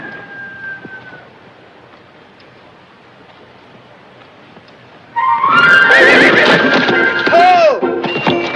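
Goblin, a horse, bursts into loud, close neighing and whinnying mixed with thudding hooves as he bucks, after a quieter stretch of low background sound and distant voices.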